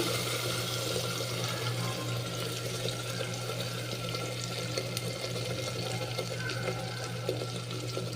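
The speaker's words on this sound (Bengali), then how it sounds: "মশলার বাটিটা ধুয়ে একটু জল দিলাম।" Water runs and splashes steadily as a spice bowl is rinsed and water is added while cooking spinach with soya chunks, a continuous close pour and trickle with no talk.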